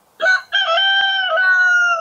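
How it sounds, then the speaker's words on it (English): A rooster crows loudly and close by in a garden: a brief opening note, a short gap, then a long, sustained, slightly wavering crow that fills the rest of the moment. "the rooster is going to drive me nuts"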